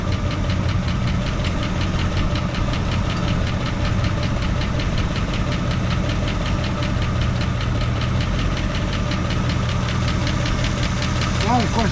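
A Mercury Marauder V8 engine, mid head gasket replacement, runs with a steady rapid knocking tick over a constant low rumble, close and loud throughout.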